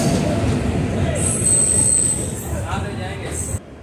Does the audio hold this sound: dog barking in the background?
no